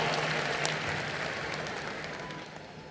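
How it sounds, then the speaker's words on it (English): Audience applause at the closing ceremony of the International Film Festival of India, a dense continuous wash of clapping from a large crowd, fairly faint and gradually tapering off. "Round of applause for you."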